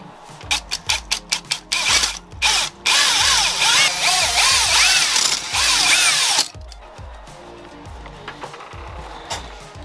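A drill spins a stone hone inside a Yamaha YZ250 two-stroke cylinder: first a run of short, rhythmic whirring bursts, then a sustained loud grinding whine with a scraping edge, which stops abruptly and leaves a few softer taps.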